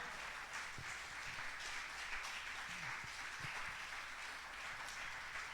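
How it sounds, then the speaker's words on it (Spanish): A church congregation applauds in praise during a service, a faint, steady wash of many hands clapping that sounds distant and continuous, with no clear voices over it. "Démosles muchos aplausos al Señor en esta hora"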